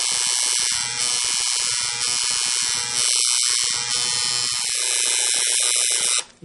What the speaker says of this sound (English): when I'm shading the black, I'm actually taking the machine and doing this with it in this motion